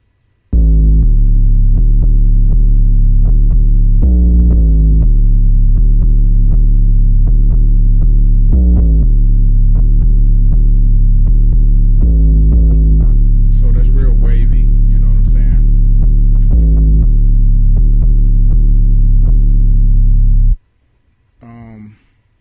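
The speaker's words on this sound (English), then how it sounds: "I'm gonna let you guys see what the bass sounds like soloed out" Deep 808 bass notes from an MPC beat play alone, heavy booming tones changing pitch in a slow pattern, loud and close, before cutting off near the end.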